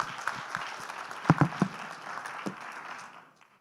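Audience applause for a conference panel as they leave the stage, a dense wash of clapping with a few sharp nearby claps, fading out toward the end.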